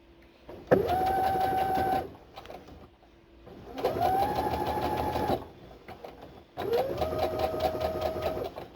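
A domestic sewing machine stitches over pins in three steady runs, each a loud whirring hum with a rapid needle patter, separated by brief pauses, close and without talk.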